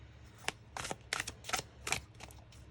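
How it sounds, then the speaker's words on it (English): A deck of tarot cards being shuffled up close, in a series of quick riffling bursts separated by short pauses, with no talking. "which I actually haven't shuffled yet, so let me just do that"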